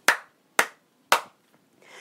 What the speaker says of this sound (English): We're going to do three claps.